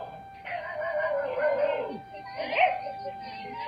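A pet dog named Julie barking and howling at a cobra trying to enter a house, drawn-out whining howls rising and falling in two bursts, close and moderately loud over a quiet background.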